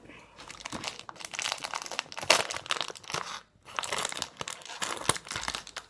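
A package is unwrapped with scissors close by, producing steady crinkling, rustling and tearing of plastic and paper in irregular bursts with a short pause midway.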